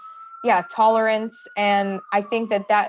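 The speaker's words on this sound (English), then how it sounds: "sorry for the sirens" Emergency vehicle siren wailing outside, a steady tone running continuously beneath and between a woman's close speech during an online webinar.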